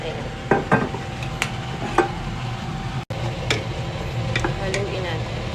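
Food with chili and vinegar being stirred in a cooking pan, with a few scraping, clinking utensil strokes against the pan over a faint sizzle.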